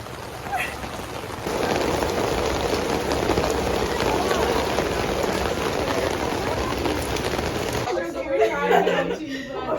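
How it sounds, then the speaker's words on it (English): A heavy downpour roars steadily for most of the clip, a dense unbroken wash of rain on surfaces, easing near the end where faint voices and movement come through. "It's raining and I'm shuttling people inside."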